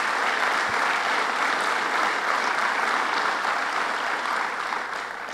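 A crowd gathered for a new Schenectady train station milestone gives steady, continuous applause, broad and unbroken, tapering slightly at the close.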